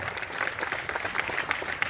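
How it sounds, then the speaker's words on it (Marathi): A college cultural festival audience applauding guests: dense, steady clapping from a crowd, continuous and fairly loud from start to finish. "त्यांच्यासाठी जोरदार टाळ्या"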